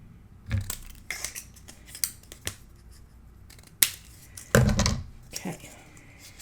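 Scissors snip through folded paper in a few sharp, close cuts, with soft handling rustles between them and no talking.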